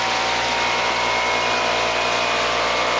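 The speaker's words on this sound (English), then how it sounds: "There you can hear the air compressor running." An air compressor runs steadily in a small-scale DIY tilapia aquaculture system, a constant close hum with a faint high whine and no talking.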